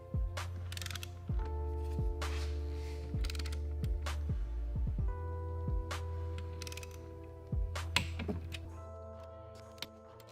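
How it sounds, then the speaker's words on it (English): A torque wrench tightens the inner main bearing cap bolts on a Mitsubishi 4B11T engine during an overhaul, giving a series of sharp, close ratchet clicks at an irregular pace over a low steady hum. "We're gonna start off by torquing the inside ones to 27 foot-pounds."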